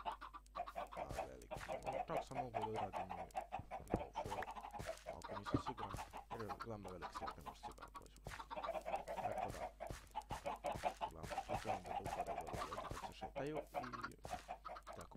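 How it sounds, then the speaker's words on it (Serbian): Chickens cluck repeatedly in the video game Minecraft, quiet and steady, under someone talking throughout. "kokoške se mnogo čuju, moram smanjiti malo igricu."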